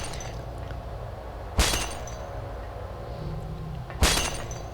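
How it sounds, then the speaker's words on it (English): Glass shatters twice in the Silent Hill 1 video game, each a sharp loud crash with a short tinkling tail, spaced a few seconds apart over a low ambient drone. "That exact glass breaking sound"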